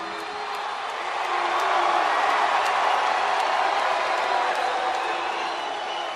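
A large arena crowd roars and cheers during a televised late-1990s wrestling show, a steady loud wash of voices that swells after the first second and holds without break.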